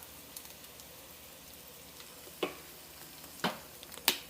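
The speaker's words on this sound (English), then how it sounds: "I'm gonna put those dry spices right in this hot fat, which is also gonna just bloom them" Onions frying in hot fat with dry spices for Sicilian arancini make a soft, steady low sizzle, close and quiet, broken by a few sharp spatters and the light tick of a utensil against the pan.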